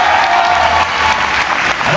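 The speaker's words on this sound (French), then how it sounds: "je vous demande de l'applaudir" A crowd at a convention opening applauds Sam of the Saturday-Man, a Belgian sentai superhero act, with loud, dense, sustained clapping close by throughout.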